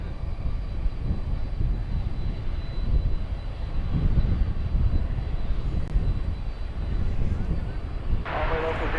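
A Boeing 747-400 jet at DFW Airport at night, a steady loud engine roar rumbling continuously, with a brief voice over it.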